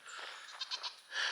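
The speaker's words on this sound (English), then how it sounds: "you can probably hear the goat in the background" A goat bleats in the background, a faint, wavering nasal cry lasting about a second with a brief rise near the end.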